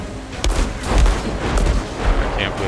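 Gunshots and blasts from combat in the video game Outriders, a few loud reports over a busy background.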